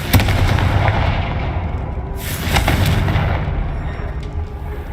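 The Confringo blasting spell explodes in the Hogwarts Legacy video game, a loud, dense booming burst of crackling blasts with a second surge midway, sustained for several seconds with no talk.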